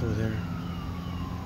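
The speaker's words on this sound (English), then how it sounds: "Oh, you got the ambulance over there." A wailing ambulance siren sounds steadily from some distance away, with traffic rumble underneath.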